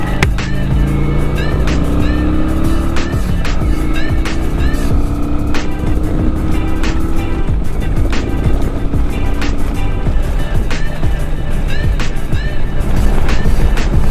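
A Kawasaki Vulcan 900 Custom motorcycle riding along a parkway, its engine droning loud and close with rising revs and steady wind rush throughout.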